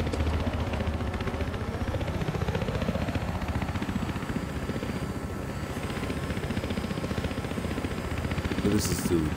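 Helicopter in the video game Battlefield Hardline gives a steady rotor thump and engine drone throughout, fairly close and continuous, with a brief higher burst near the end.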